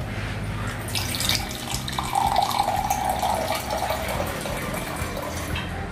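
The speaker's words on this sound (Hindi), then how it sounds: "और हम लोग पहले पानी डाल देते हैं।" Water is poured into a pan for making masala chai in a home kitchen, a continuous close splashing and trickling stream lasting several seconds with no speech.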